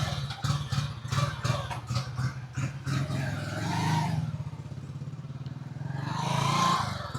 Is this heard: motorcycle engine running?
yes